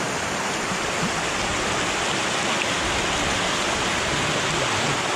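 Orakuzhy waterfall on the Rajagiri estate roars as a steady, dense rush of falling water, loud and unbroken, with no voices.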